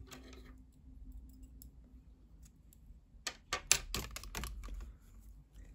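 Scissors snip sewing thread after close stitching around a garment collar: a short burst of crisp, close clicks against a quiet background.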